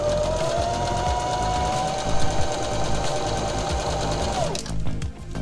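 A sewing machine runs continuously up close, stitching a zigzag edge on fabric with a fast, even mechanical whir that slows and stops near the end.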